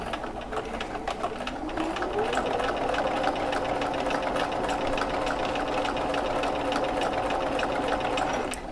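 A sewing machine stitches a recessed zipper panel near metal zipper teeth, its fast, even motor whir running steadily and close up from start to finish with no talk over it.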